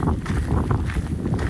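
Steady wind buffets the microphone on a gloomy, wet mountain ridge in the clouds of the Roan Highlands on the Appalachian Trail, a continuous low rumbling roar with gusty swells throughout.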